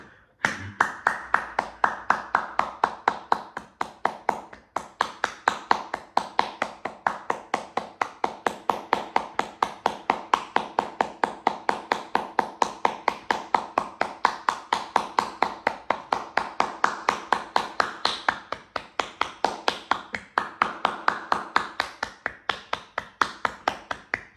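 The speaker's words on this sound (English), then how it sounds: "hold the breath as long as you can while clapping" A single person claps steadily and rhythmically throughout a yoga breathwork exercise done while holding the breath, with close, sharp, evenly spaced claps that continue for the whole stretch with only a brief pause.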